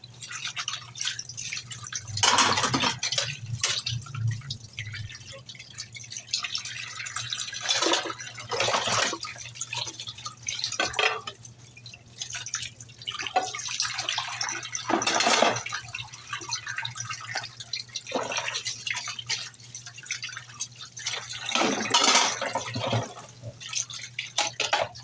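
Dishes being washed at home under running water, with repeated drips, splashes and clatter over a steady low hum, moderately close and without speech.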